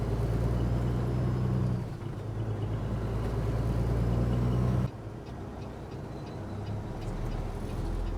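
An empty Peterbilt 389 truck on the road to Indiana, with a loud, steady low engine drone and road rumble that dips briefly around two and five seconds, then continues evenly without talk.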